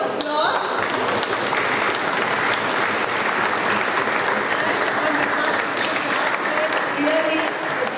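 Sustained, dense audience applause fills a golden jubilee reunion hall for a 1975 medical college batch, steady and loud throughout, with a voice speaking faintly beneath the clapping.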